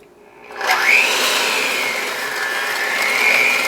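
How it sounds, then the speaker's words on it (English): An electric hand mixer whirs steadily through chocolate cake batter made with butter, starting up with a rising pitch and then holding a close, continuous motor whine with a slight wobble as it beats. "So I'll grab my mixer and away we go."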